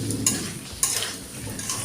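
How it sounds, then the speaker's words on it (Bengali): Potato and pointed gourd pieces with spices are stirred in a pan, giving short, close scrapes and clinks of a spoon against the metal over a faint sizzle, with two sharper knocks. "এই পটল আর এই আলুটা আমি আবার একটু ভালো করে মিশিয়ে নেব।"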